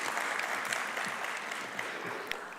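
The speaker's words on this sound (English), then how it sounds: "Let's give Mr. Tembe a big round hand of applause." An audience at a climate and sustainable development council meeting claps steadily, a dense uninterrupted patter of many hands that tapers slightly toward the end.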